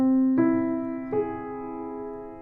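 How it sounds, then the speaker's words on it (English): An augmented chord on piano, struck twice: a first sustained chord, then a second attack just over a second later, both ringing out and slowly decaying, played alone with no talking. "Augmented chords sound like this."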